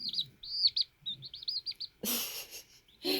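A small chick chirps loudly and rapidly up close in a string of high peeps, followed by a couple of brief rustling bursts.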